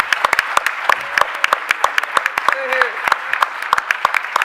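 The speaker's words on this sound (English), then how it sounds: "How about a round of applause for Mark Haywood?" Audience applause for Mark Haywood at a Rhode Island small business event, sharp claps standing out in a steady burst of moderate loudness with some talk mixed in.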